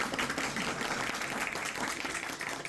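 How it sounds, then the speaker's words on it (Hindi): A workshop audience at a training session on AI tools claps together, a brief dense patter of hands at moderate level, somewhat muffled and roomy. "तालियां बजा रहे हैं,"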